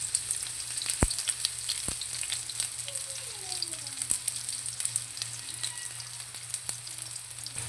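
Onion and ginger sizzling in hot oil in a pan, a steady close frying hiss with occasional pops and stirring clatter.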